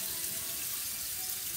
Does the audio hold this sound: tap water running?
yes